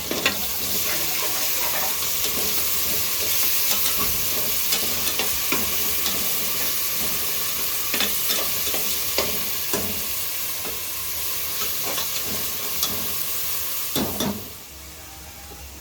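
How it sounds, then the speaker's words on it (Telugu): Onion frying with ginger-garlic paste for a country chicken curry, a steady loud sizzle with repeated scraping stirs of a spoon through the pan, continuing alone with no talk and easing off right at the end. "కొంచెం అల్లం వెల్లుల్లి పేస్ట్ అయితే నేను వేసుకుంటున్నా. ఒకసారి కలుపుకుందాం."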